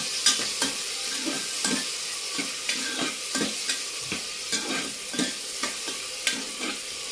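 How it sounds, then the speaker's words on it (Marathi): Onion and chopped tomato sauté in a pan with a steady sizzle, punctuated by repeated scrapes and taps of a spoon stirring at a regular rhythm, close and moderately loud with no voices. "हे एकत्र चांगलं मिक्स करून चांगलं परतून घेऊया"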